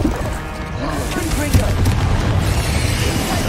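A Bombarda spell blast goes off in Hogwarts Legacy, a deep booming burst with a rumbling low-end tail inside a steady, dense game soundscape.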